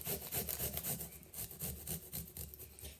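A peeled garlic clove rubs over a fine grater in quick rhythmic rasping strokes, soft and close, about a dozen scrapes with no other sound.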